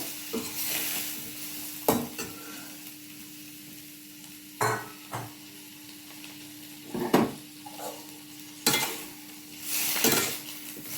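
Chopped green chilli, capsicum and tomato cook together in a pan, with a soft background sizzle and several distinct bursts of spatula scraping and stirring spaced a few seconds apart, close with no talking.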